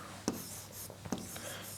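Chalk or marker writing an equation on a board, two or three quiet short taps and scratches over a faint hiss, with no speech.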